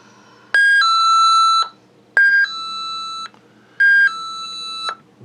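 A battery-powered electric bell, used as a power outage and restoration alarm, rings loudly in three separate bursts, each a sustained bright metallic tone, with short silences between them.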